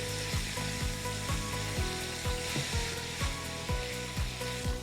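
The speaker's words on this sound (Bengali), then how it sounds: "ম্যারিনেট করা মাংস চিকেনগুলো আমি দিয়ে দিলাম কড়াইয়ের ভিতর" Marinated chicken frying in a wok, with a steady loud sizzle and rhythmic scrapes and knocks of a spatula stirring the pieces, close and continuous with no talking.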